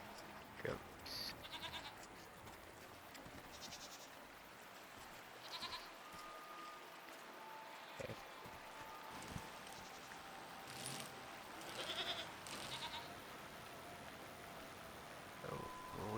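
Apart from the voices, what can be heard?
goats bleating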